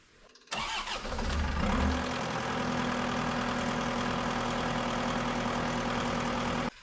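A New Holland L220 skid steer engine cranks and catches, then settles into a steady, loud idle that holds alone until cutting off at the end.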